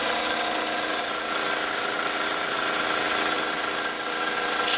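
A PM-940 milling machine gearbox runs continuously with a steady, smooth mechanical whine and hum, loud and close, with a constant high-pitched tone and no talking.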